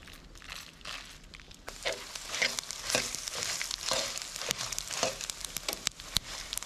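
Cumin seeds and fenugreek fry in a pan for a country chicken curry, a close crackling sizzle broken by sharp popping spits and stirring clicks that grow busier and louder midway; no voices.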